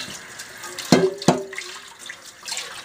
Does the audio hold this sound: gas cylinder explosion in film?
no